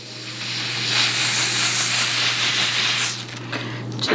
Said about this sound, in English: So we're gonna do a second spray.